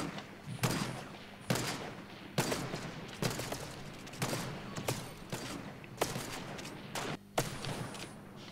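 Fortnite gunfire in a snipers-versus-runners match, a series of loud bursts of shots roughly every second, close and sharp, with reverberant tails.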